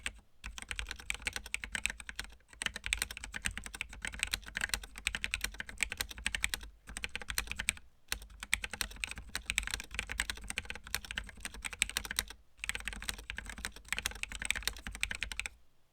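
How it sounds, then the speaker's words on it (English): Fast, continuous clacking of a mechanical keyboard with cheap linear switches being typed on, close up, with a few brief pauses between bursts of keystrokes. "So I'm going to go through, do a typing test now"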